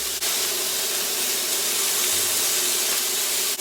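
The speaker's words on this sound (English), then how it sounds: "we're just trying to sear up all those sides so we can lock in those juices" Filet mignon searing in a hot cast iron skillet, a loud, close, continuous hiss of spitting fat that stays steady throughout without talk.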